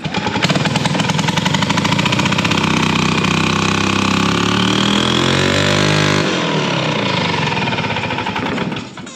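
A custom Harley-Davidson motorcycle engine fires up and settles into a loud, throbbing idle, a steady rapid lumpy rhythm with a brief rise in revs before cutting off at the end.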